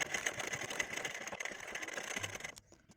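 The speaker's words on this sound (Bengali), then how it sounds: "তো সেই জন্য প্রথমে ডাবল সেলাই দিয়ে দেবেন, তাহলে কি আপনাদের সেলাইটা একটু বেশি ভালো থাকবে।" A sewing machine runs steadily, double stitching the seam of a dori sleeve, its fast mechanical whirr and ticking continuous and close before it stops abruptly near the end.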